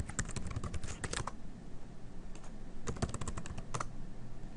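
Fast typing on a computer keyboard, close and clear, in two bursts of rapid clicking separated by a brief pause, with no talking.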